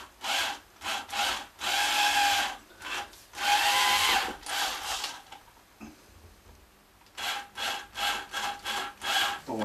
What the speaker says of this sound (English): drill holes for jack socket